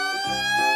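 A toy red fire truck's electronic siren blares in a steady, bright, buzzy wail, loud and close for under a second with no talk.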